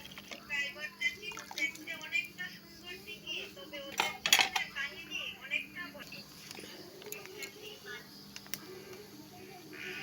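A spatula stirs food in a cooking pan, giving light scraping taps and metallic clinks with one louder clatter near the middle, all under a person talking.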